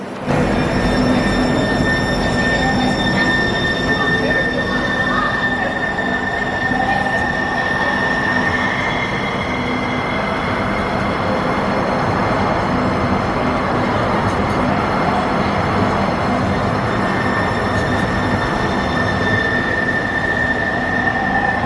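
A train rumbles past steadily at Westlake, Seattle, for a long stretch, with high metallic wheel squeals ringing over the constant rolling noise.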